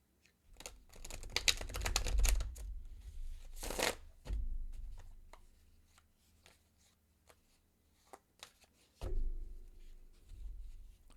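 A tarot card deck is shuffled close up in quiet, with papery riffles and soft slaps of cards in several bursts separated by short pauses.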